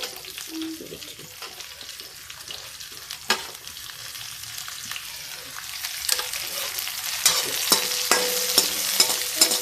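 Garlic and onion sizzle and crackle in a hot pan, with occasional scraping stirs and clinks growing louder toward the end.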